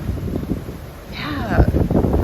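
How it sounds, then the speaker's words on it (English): Strong wind on a Carnival Liberty cruise ship in rough weather roars and gusts against the microphone, a rough, blustery rush with a brief whistling tone partway through. "the weather was really rough last night, and it still is. Very windy"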